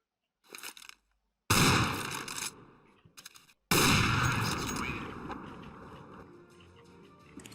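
Loud bursts of video game gunfire in a one-on-one match, several sharp shots with ringing decay, separated by brief silences.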